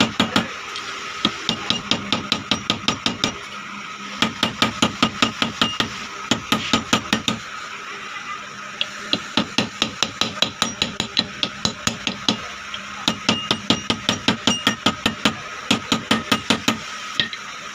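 A jammed overlock sewing machine bush fitted on a shaft being struck against a vise, a long series of sharp metallic hammer blows in quick rhythmic bursts with brief pauses, close and loud, with no talk.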